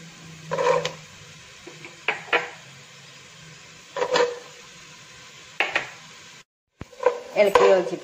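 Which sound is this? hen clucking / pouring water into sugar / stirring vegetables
stirring vegetables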